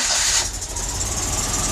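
A Citroën 2CV engine cranks and catches, then settles into a loud, close, steady mechanical run with no voices.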